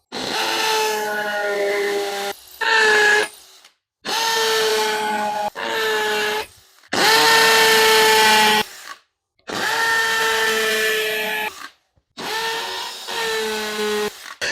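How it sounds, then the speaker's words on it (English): A hammer drill whines loudly drilling holes in concrete in repeated bursts of a few seconds each, separated by short pauses, with a steady harmonic motor tone. "So now make sure your drill is in hammer drill. And then we're going to drill out our holes here."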